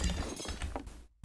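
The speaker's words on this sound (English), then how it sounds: "So, glass noise time." Glass window shattering in Garry's Mod, a loud crash that fills the first second with bright broken-glass noise before cutting to near silence, then a brief return of sound.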